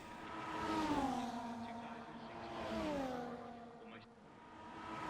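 Race cars in the F1 24 game at Imola, engines whining through rising and falling revs as they pass and enter the pits, heard at a moderate distance.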